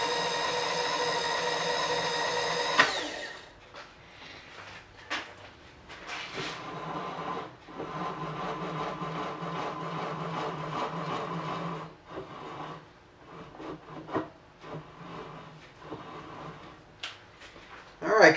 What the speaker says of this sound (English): seems like the gears are mashing up nicely